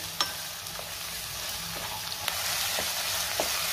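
Green bell pepper sautés in hot oil over a high-to-medium flame, making a steady close sizzle broken by a few light clicks and scrapes of stirring.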